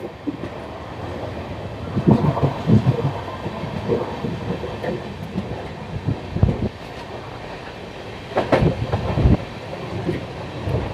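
A passenger train rolls along the rails on a journey from Tiruppur to Palakkad, rumbling steadily with rattling carriage noise and periodic louder clanks and surges, heard from inside the moving train.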